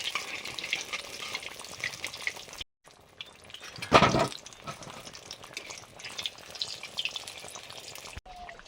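Topse fish chops sizzle in hot oil in a new wok in an outdoor kitchen, a steady close frying hiss with brief scraping and a sharper stirring clatter midway, no talk.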